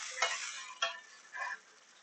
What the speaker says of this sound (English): we're just going to first mix these vegetables a bit